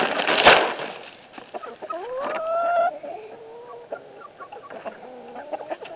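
Chickens in a backyard coop where a new rooster joins the flock cluck and cackle nearby, a loud squawk opening into a string of rising, drawn-out clucks and softer calls.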